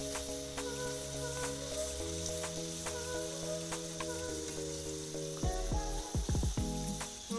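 Sanjeera sweet pastries frying in hot oil, a steady close sizzle with bubbling crackles that grow busier toward the end, no talk over it.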